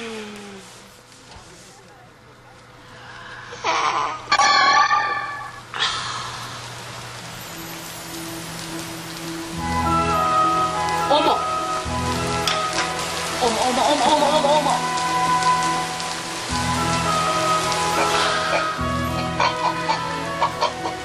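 A rain shower falls steadily outdoors for the second half, with chickens clucking nearby and voices talking over the patter.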